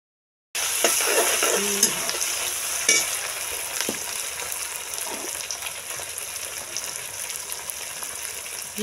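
Tomatoes sizzling and frying in a pan over a clay village stove, with a steady close hiss, soft stirring scrapes and occasional small crackles.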